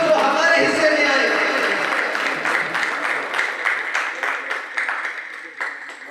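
Audience applause at an award ceremony, a dense burst of clapping from a crowd that stays loud, then slowly thins and fades.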